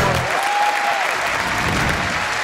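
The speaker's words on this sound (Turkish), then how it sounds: "Işıkçılarımız, arkadaş seslerimiz ve çok değerli kameramanlarımıza gelsin alkış" Loud, steady clapping from a Turkish music television studio audience as the crew is thanked, continuous and close, with a brief gliding tone early on.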